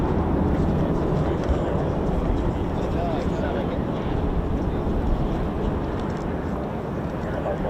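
An F-35A fighter jet flies at RAF Lakenheath, a continuous broadband roar holding loud and steady throughout with no break.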